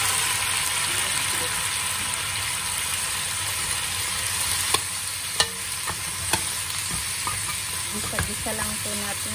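Pork leg frying in a pan with garlic, a steady loud sizzle with brief clinks of stirring near the end, no talking.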